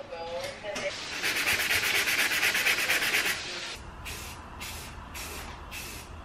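Sandpaper rubbing over a 3D printed Daredevil helmet touched up with body filler, a long steady scraping stroke followed by four short rhythmic passes, close and fairly loud with no talking.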